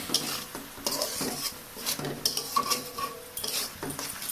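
Cooked red amaranth and spinach greens being mashed with rice flour in a pan, with repeated close scraping, stirring strokes and metallic clinks of a utensil against the pan over a faint sizzle.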